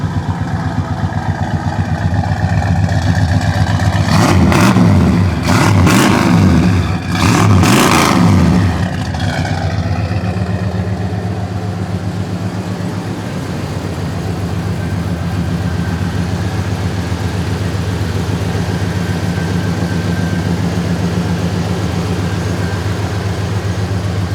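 At the tailpipe of a 1986 Ford F250 running Holley Sniper 2 injection, several loud throttle blips rise and fall before the exhaust settles into a steady, throaty idle, heard up close and alone.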